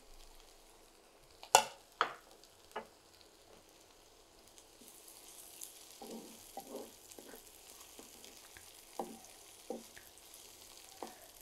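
Crushed garlic and onion frying in mustard oil, a soft sizzle under scattered stirring clinks and scrapes, quiet and close, with no talk.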